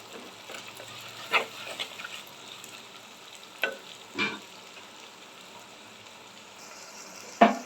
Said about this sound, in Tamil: வெங்காயம் வதக்கிட்டு இருக்கு பாருங்க நல்லா வதங்கட்டும்